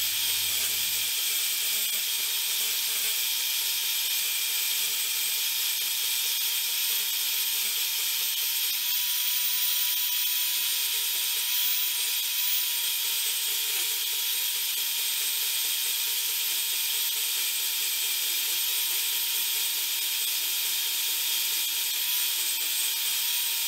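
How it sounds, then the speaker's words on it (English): A small portable band saw held in a vise grinds steadily through a metal surface gage part in a home machine shop, a constant mechanical whine and rasp sustained for over twenty seconds with no talking. "I'm just doing it on my little portaband setup here"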